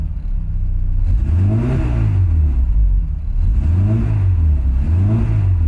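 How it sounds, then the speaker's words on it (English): The engine of a 1954 Austin A30 revs in repeated rising and falling surges, loud and close, with a steady rumbling idle between each push of the throttle. "It might sound like I'm revving it hard"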